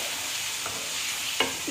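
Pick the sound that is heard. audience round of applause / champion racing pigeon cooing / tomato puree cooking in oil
tomato puree cooking in oil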